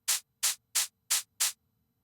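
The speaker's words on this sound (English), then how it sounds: "I choose the Kabasa percussion," Five evenly spaced, crisp shaker hits from a cabasa percussion sample on a Korg Electribe 2, each a short bright burst, heard alone with no talk.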